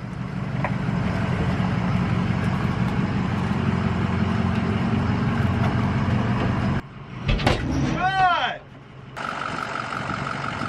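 A truck engine, hitched to a fifth-wheel RV, idles with a low, steady rumble, then it cuts out briefly while a voice speaks.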